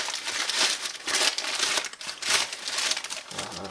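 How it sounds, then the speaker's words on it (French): Plastic packaging on a Power Rangers parcel crinkles and rustles in close, repeated bursts as it is unpacked, with no talking. "Allez, on déballe tout ça,"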